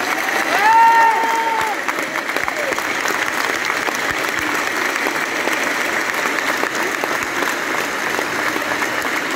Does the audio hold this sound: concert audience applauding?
yes